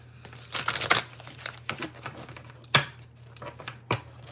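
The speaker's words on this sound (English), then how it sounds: "I'm trying to shuffle and hurry up and eat this." Close-up tarot card shuffling, with soft riffles and papery slides coming in short bursts and a few sharper flicks.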